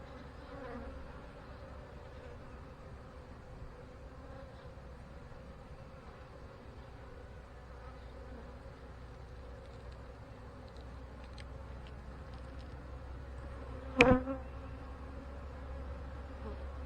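Queenless honeybees buzzing around a hive frame, a faint continuous drone of many wings, with one bee zipping close past at one moment, no talk.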